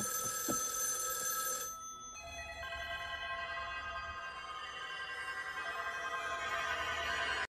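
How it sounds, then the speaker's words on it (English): Telephones ring in a scene from the film The Lawnmower Man, a dense overlapping electronic trill that cuts briefly, then resumes as a sustained layered chorus of bells, loud and near, with no speech. "making all of the phones ring"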